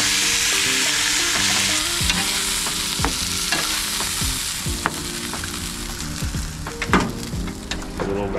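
NY strip steak sizzling and frying in a hot pan after being flipped, a steady loud crackle with occasional scrapes and knocks of a utensil against the pan.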